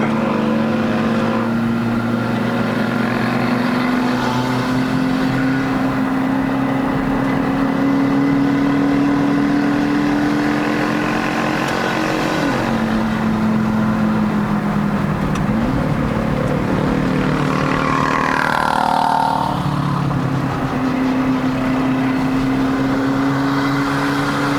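A Perodua Bezza 1.3L with a bolt-on turbo labours uphill on the Genting run, its engine droning loudly and steadily from inside the cabin, pitch sagging and rising as it strains.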